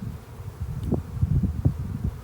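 Honey bees crawl over an open hive frame during a hive check a month after a package install, giving a soft, low buzzing drone that swells in brief pulses, fairly close and steady with no voices.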